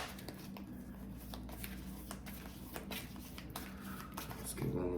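Oracle cards being shuffled by hand for a reading, giving a steady papery riffling and soft slapping that runs throughout at close range, with a low background hum.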